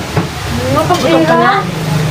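Tilapia frying in a pan, a steady sizzle and crackle under people talking nearby.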